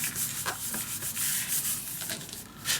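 A bone folder or fingers rubbing paper flat onto a handmade butterfly mini album, giving a steady dry scraping rub with a few brief sharper strokes, close and fairly quiet.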